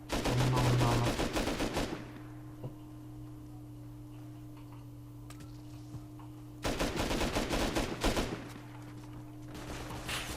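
An auto turret in the Rust video game lets loose rapid, loud bursts of automatic gunfire, one long burst at the start and two more later, with a low steady hum between.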